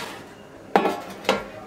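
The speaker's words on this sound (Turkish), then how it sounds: "Yuvarlayıp tepsilere dizeceğim." Dough balls set down on metal baking trays while making soft bakery-style mini sandwich pastries, giving two distinct clanks about half a second apart against a quiet kitchen background.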